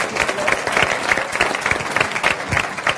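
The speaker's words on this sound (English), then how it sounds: "Once again, round of applause for Amanda" Steady applause from a crowd, dense clapping filling the whole stretch with no voices breaking through.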